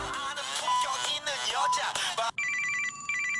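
A mobile phone's ringtone comes in abruptly after a stretch of talk, a steady electronic warble with repeating beeping tones that carry on alone and fairly loud until the end.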